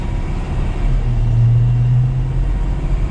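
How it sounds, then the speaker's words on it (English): A 2022 Ford F250 Super Duty XLT Crew Cab pickup gains speed on the road, with a steady low engine rumble that swells into a louder sustained drone mid-clip, heard from inside the cab. "now that we're out on the road, we'll give it a little bit of gas"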